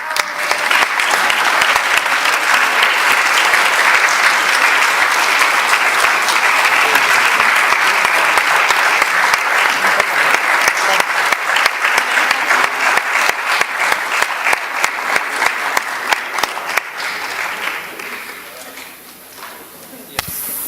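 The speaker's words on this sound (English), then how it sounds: "you deserve a huge standing applause" A parliamentary assembly session breaks into loud, sustained standing applause for a delegation, dense clapping from a large hall that runs steadily before thinning into scattered claps and fading near the end.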